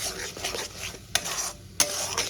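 Green chili, mustard and garlic paste sautéing with onions for a boal fish curry, a soft steady sizzle with a spatula scraping and stirring, two sharp metallic clinks against the pan standing out.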